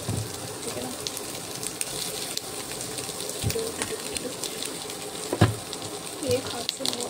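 Chopped onions hit hot oil in a pan while poha is being cooked, giving a steady close sizzle and crackle with a few sharper clatters and stirring knocks.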